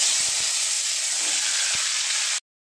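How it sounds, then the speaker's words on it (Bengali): Hot mustard oil hisses loudly as it is spread in a kadai for a village-style Bengali recipe, a steady bright sizzle with a few faint knocks underneath, cutting off abruptly. "তেলটা খুব ভালোভাবে গরম হয়ে গেছে আর তেলটা আমি একটু কড়াতে ছড়িয়ে দিচ্ছি।"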